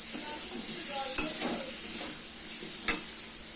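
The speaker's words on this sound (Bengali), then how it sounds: "এবার মশলার মধ্যে দিয়ে আবার ভাজা ভাজা করে দিতে হয় ভালো করে" Vegetables with cumin powder and chilli powder sizzle in a pan while being stir-fried for a pui shak dish with hilsa fish head. A soft, even fry hiss carries two sharp spoon clinks against the pan, close up, with no talk.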